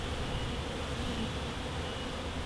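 Wild bees swarm around an old hive inside a power box, making a dense, steady buzz that is close and fairly quiet and holds without a break, with no talking.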